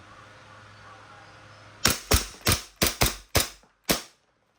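Seven sharp, snappy shots from an E&C Glock 17 two-tone airsoft pistol ring out close and loud in quick succession after a quiet lead-in, with a slight pause before the last shot.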